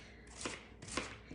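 Knife chopping shrimp for chowder on a board, several quiet, quick cuts in small clusters, close and soft, with no voices.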